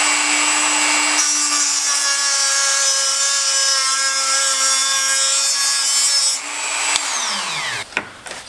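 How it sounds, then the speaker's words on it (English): A rotary cutting tool whines steadily and loudly as it cuts through a permanent coolant hose clamp on a BMW. Near the end its pitch drops as the tool spins down, followed by a few scraping clicks. "It's kind of a permanent clamp, so I'm going to go ahead and cut this off."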